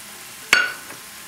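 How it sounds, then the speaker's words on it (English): Arborio rice sautéing in a pan for risotto, a low sizzle broken by a single sharp scrape of a spoon stirring, close by. "Give it a stir."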